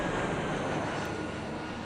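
A jet aircraft in Sid Meier's Alpha Centauri video game roars past as a steady, broad engine rush at moderate loudness, with no talking.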